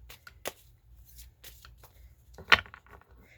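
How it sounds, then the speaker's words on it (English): Tarot cards being shuffled close by, with soft papery riffles and a couple of sharper slaps, intermittent against a quiet background. "I never know how to, I shuffle all kinds of ways."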